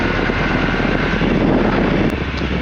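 A small airplane's engine runs steadily before takeoff on a crosswind day, a loud, continuous propeller drone that holds level throughout.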